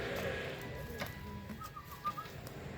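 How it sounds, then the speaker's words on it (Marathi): Rocket Sep breed pigeons coo softly in a breeding loft, a few faint low calls set against a steady hum of background noise. "रॉकेट सेपचे कबूतर आहेत."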